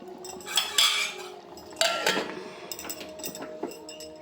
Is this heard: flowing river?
no